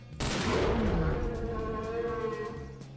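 A single loud gunshot from a gun in Garry's Mod cracks out close and abruptly, then rings and reverberates for a few seconds as it fades.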